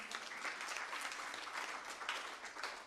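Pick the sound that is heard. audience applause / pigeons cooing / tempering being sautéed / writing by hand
audience applause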